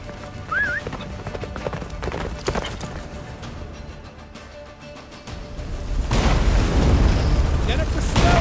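Roach, the horse in The Witcher 3, gallops in steady hoofbeats under layered game noise and booming effects, with the clatter growing louder and denser near the end.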